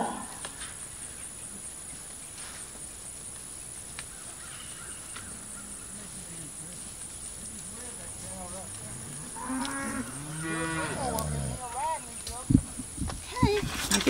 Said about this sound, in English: All right, that calf's in there now.